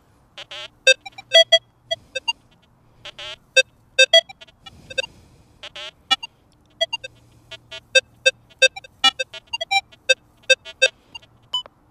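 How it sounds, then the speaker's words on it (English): A Rutus Versa metal detector sounds sharp electronic beeps in short bursts and clusters as it sweeps over a nail and then a target, with irregular pauses and a faint low hum between tones. "The detector comes across the nail, recovers, and hits the target."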